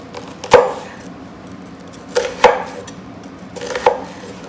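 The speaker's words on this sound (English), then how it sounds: "We cut down near the root end and come out. And we make it into little slices this way." Knife slicing an onion into thin slices on a cutting board for a crock-pot beef stew: three sharp, separate chops spaced about 1.5 seconds apart, close and crisp over a quiet room.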